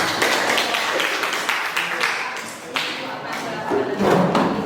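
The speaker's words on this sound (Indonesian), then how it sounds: "Ya, silakan tepuk tangan ya." Audience applause after a group presentation, a dense patter of clapping hands with a few louder thuds, sustained and near, with voices talking over it toward the end.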